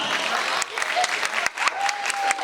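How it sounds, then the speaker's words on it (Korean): Audience applause at an award ceremony for a brand ambassador appointment at a character licensing fair, a steady dense clapping sustained for a couple of seconds with a few sharper claps standing out. "박수가 필요합니다"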